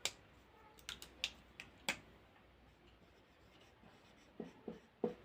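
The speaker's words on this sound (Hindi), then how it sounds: "यहाँ लिख देते हैं।" Writing on a board during a civics lesson, heard as a string of sharp taps and short scratchy strokes in quick clusters, with a pause before a final few marks; close, quiet, no talk.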